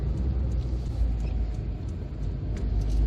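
Cabin sound of a 1995 Hyundai Lantra 1.5 GLS in third gear, a steady low engine and road rumble filling the car at moderate speed, with faint small ticks above it and no talking.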